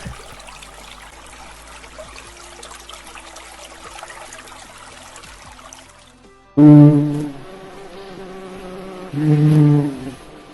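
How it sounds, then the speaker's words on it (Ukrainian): Soft outdoor rustling and trickling, then loud bees buzz close by in a meadow in two strong droning bursts with a clear humming pitch. "А так гудуть бджілки на лузі."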